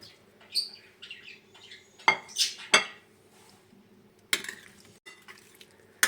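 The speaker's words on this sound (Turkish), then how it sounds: "Sebzelerin her yerine gelecek şekilde sosla karıştırıyorum." A spoon scrapes and clinks against a glass baking dish while vegetables are stirred into sauce, giving irregular knocks and clatters with short quiet gaps between them.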